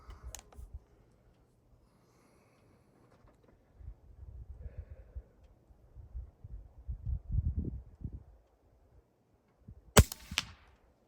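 Gunshots fired at a low target: a faint crack at the start and one sharp, loud report near the end, separated by quiet outdoor rustling and low rumble.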